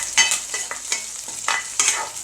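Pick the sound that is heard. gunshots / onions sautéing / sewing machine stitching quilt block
onions sautéing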